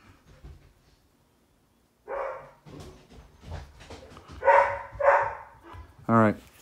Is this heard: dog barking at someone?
yes